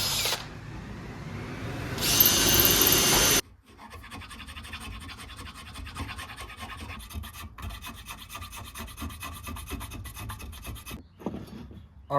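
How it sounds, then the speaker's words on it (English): A hand drill works into a wooden handle block for a forged chef's knife, giving a steady, close grinding rasp with short pauses and a louder burst near the start. "I'm gonna use a hand drill and see how it goes"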